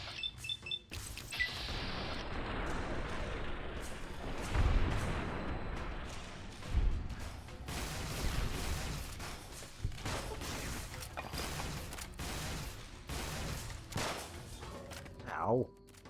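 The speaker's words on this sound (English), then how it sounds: "Oh, those are the Tesla cannons." Tesla cannons firing in Fallout New Vegas, a run of crackling energy blasts and heavy booms repeating through the clip under game effects, with a bright zapping sweep near the end.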